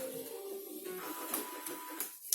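An Epson L1800 DTF printer runs a head-cleaning cycle, giving a short, quiet mechanical whir and hum with a few faint ticks and clicks near the end.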